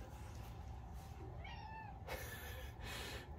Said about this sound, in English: Cat agrees.